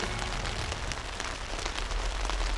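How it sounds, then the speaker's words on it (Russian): Steady rain falling on a cold night in Siberia near Tyumen, a dense continuous patter of drops drumming on a surface, close and fairly loud, with no voices. "И дождь пошел."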